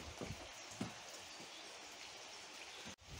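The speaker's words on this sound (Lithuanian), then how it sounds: "Lietutis prasidėjo." Light spring rain falls outdoors at a countryside homestead, a faint, steady hiss of drops on surfaces with a few soft taps and no voices.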